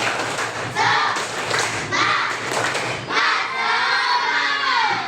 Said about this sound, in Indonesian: Sekarang sebelum kita itu kita tepuk semangat lagi ya.